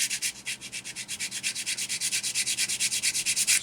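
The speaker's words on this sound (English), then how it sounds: "So I'm going to start with our rougher sander." A rough sander rubs steadily back and forth along the edge of a 1/35 ICM Model T 1917 ambulance kit piece, an even rapid rasping rhythm up close, alone.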